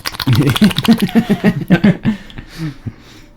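A voice imitates an engine cranking and sputtering to life with a rapid rattling burr, ending in a few short coughing splutters.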